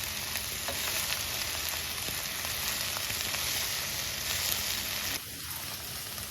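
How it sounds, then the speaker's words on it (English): Sliced okra sautéing in a pan over medium heat gives a loud, steady close sizzle with faint stirring scrapes, ending in a slight drop in intensity near the end. "Add half of the okra. Now sauté on medium heat."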